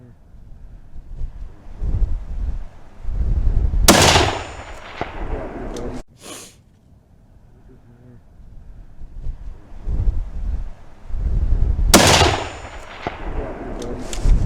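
While hunting, a rifle fires at a game animal: two sharp, loud close shots several seconds apart, with wind buffeting the microphone and low rumbling between them.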